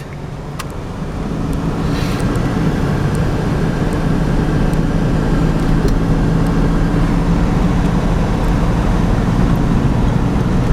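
An old Honda Civic cruises at highway speed, about 70, with a steady loud roar of engine, tyres and wind that swells in the first seconds and then holds constant.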